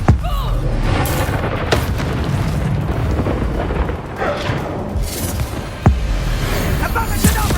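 A Bombarda explosion spell in the Hogwarts Legacy video game goes off during a final battle. Loud booming blasts and rumbling bursts sound amid continuous roaring combat noise, with a few sharp impacts punctuating it.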